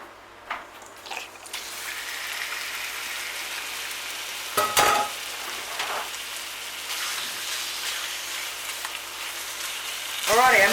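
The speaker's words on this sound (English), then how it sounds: "Now we're going to put the chicken in And we are going to just keep tossing it around for about a minute" Chicken pieces frying and tossed in a hot stir-fry pan for a chilli chicken dish, giving a steady broadband sizzle with occasional louder scraping and tossing clatters, close and continuous with no talk.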